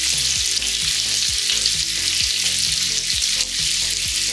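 Sausages and bacon fry on a Ninja Sizzle griddle with a loud, continuous close-up sizzle and crackle, and a low electrical hum pulses underneath.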